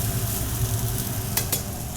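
Beef pepper rice sizzles steadily in a heavy frying pan, a loud, dense frying hiss with a couple of sharp scraping strokes from stirring near the end.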